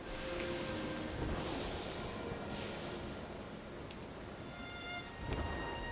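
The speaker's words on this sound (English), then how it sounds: "Go stop the rain." Steady rain in the video game Sky: Children of the Light, a continuous hiss of falling drops that fills the whole stretch with no voices.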